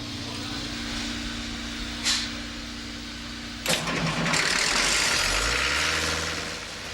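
An engine on a factory test stand cranks and catches, then settles into a steady mid-pitched running roar, preceded by a low hum and a brief clank.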